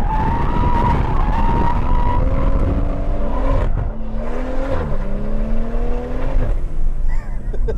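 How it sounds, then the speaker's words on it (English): A car, apparently a tuned BMW, pulls away with its tyres skidding and squealing loudly. The engine revs rise and fall under the long, wavering screech, with a few voices faintly in the background. "Right, Ricky's leaving with no tyres, lads."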